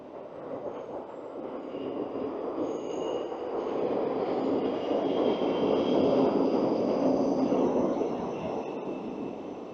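Train rumble and rolling wheel noise on the lower level of Glasgow Queen Street station, a steady broadband roar swelling and easing over several seconds with faint high squeals, no talk.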